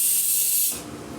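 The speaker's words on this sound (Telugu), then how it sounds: "ఆయిల్ హీట్ అయిపోయిందండి. మన ఆవాలు, జీలకర్ర వేసుకుందాము." Mustard seeds and cumin hit hot cooking oil for a Telugu dal dish, giving a bright, loud hiss that drops after a moment into a softer, lower frying crackle.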